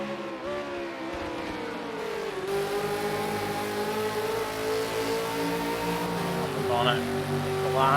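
V8 Supercar race cars at Silverstone accelerating through a corner, a steady loud engine drone with shifting pitch and rising revs toward the end, heard under a commentator's voice.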